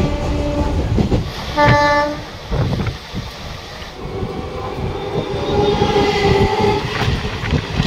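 A train heading to Sealdah station: a loud, close rumble of rolling carriages with a short blast of the horn early on, then a continuous clattering drone.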